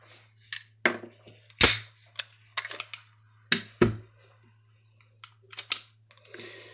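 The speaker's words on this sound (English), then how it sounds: "every time you pull the trigger, it goes bang, big fireball" A blank-firing mini gun shoots blank cartridges in sharp, loud bangs, some single and some in quick clusters. A constant low hum sits under the shots.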